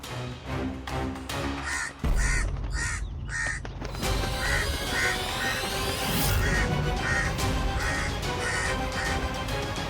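A crow caws repeatedly in a mythological Hindi TV series, harsh rhythmic calls layered over dramatic music and crashing sound effects, loud and close.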